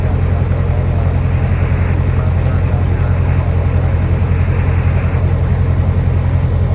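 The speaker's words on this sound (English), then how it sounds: "Plane started right up." Small plane engine idling just after startup, a loud, steady low drone with constant throbbing hum and no voices.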